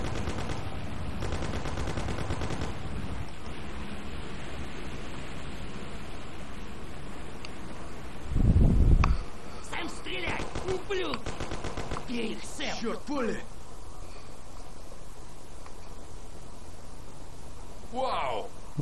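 Gunfire aimed at car engines in the game Mafia: The City of Lost Heaven: repeated rapid bursts of shots with one heavy low thump partway through, set against steady background noise and voices.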